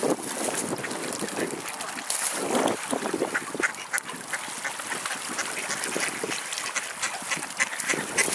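Ducks quacking on open water during a mild English Christmas, the calls mixed into a continuous broadband wash of wind and splashing that stays fairly loud and steady throughout.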